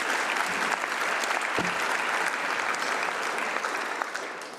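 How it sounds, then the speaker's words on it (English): A conference audience at a lawyers' congress closing ceremony in Luxembourg applauds the coordinators, a full, steady wash of many hands clapping that tapers slightly near the end. "if everyone would please give them a little round of applause"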